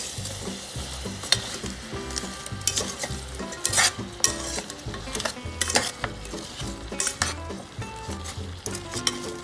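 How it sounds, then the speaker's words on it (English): Sliced Swiss mushrooms sizzle in a pan while a utensil stirs them, giving repeated scraping and clinking strokes over a steady frying hiss, close up. "Then stir it well as it cooks."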